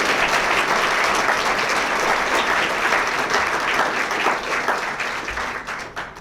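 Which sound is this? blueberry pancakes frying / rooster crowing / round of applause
round of applause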